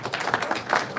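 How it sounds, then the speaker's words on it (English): An audience at a Filmfare Awards press conference gives a brief round of applause, a close, busy patter of many hands clapping together. "A huge round of applause for him"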